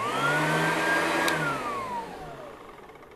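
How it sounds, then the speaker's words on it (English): An Oreck XL upright vacuum cleaner, fitted with a new belt and bag, is switched off, and its motor winds down with a falling whine that slowly fades. "When you shut it off, it's making a noise."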